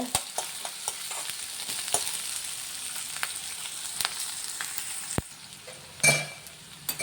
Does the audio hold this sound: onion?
yes